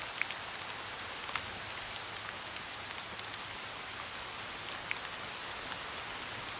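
Rain falls steadily on surfaces nearby, a continuous soft hiss dotted with scattered droplet taps, with no voices.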